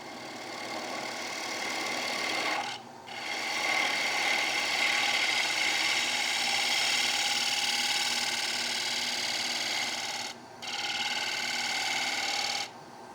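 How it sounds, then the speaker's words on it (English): A wood lathe spins steadily while a tool cuts a utility platter, a continuous whirring hum with a hissing scrape that drops out briefly twice as the cut pauses. "And now I'm going to cut back towards this side to get rid of any torn grain that I did with the pull cut."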